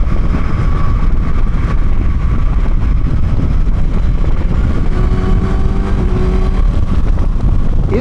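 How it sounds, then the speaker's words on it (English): A Suzuki GSX-S 1000 motorcycle pulls away under gentle throttle, its engine tone rising smoothly beneath heavy rushing wind noise while riding. "Just a slight tip in of the throttle, and this bike just starts moving, collecting mile an hour rather quickly."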